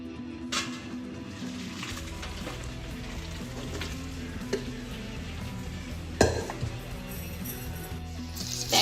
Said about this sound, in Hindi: तो ये हो रहे हैं हमारे आलू फ्राई